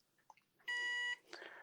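Transmitter of a QIDI 560 beginner RC plane giving a short steady electronic beep, sharp and clear, after a few faint clicks and followed by a softer trailing tone, close and alone.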